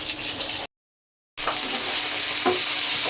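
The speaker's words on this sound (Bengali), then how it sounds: "সব মাছগুলোকে একটু ভেজে নিচ্ছি আস্তে আস্তে।" Hilsa fish pieces fry in hot oil in a pan, giving a bright steady sizzle that drops out briefly to silence and then resumes loud and close, with a faint stirring scrape.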